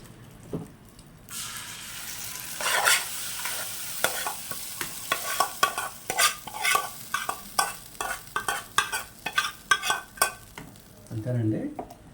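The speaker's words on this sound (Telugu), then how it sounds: "పల్లి చట్నీ తాలింపుకి ఈ చట్నీలో మనం ఈ తాలింపుని వేసుకోవాలి." Tempering for peanut chutney sizzles and crackles in hot oil, with rapid, repeated stirring clatters and pops growing denser through the middle before settling; no voices.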